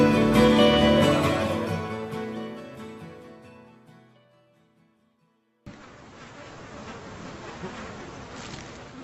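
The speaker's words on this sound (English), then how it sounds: "The air is now clouded by buzzing swarms of bloodsuckers." A dense mosquito buzz fills the air over Alaskan tundra: a thick droning hum that fades out, then a brighter, steady whine of many mosquitoes returns, with no voices.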